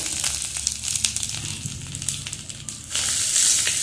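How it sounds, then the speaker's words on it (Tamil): Grated coconut fries in a pan over a low flame, making a soft, steady crackle and sizzle with faint scraping that grows a little louder toward the end. "லோ ஃப்ளேமில் இதை ப்ரௌன் கலரில் வறுத்தெடுக்கணும்."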